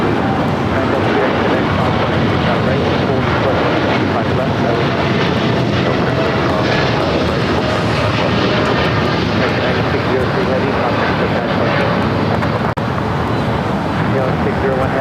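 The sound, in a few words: American Airlines Boeing 787-8 Dreamliner taking off at LAX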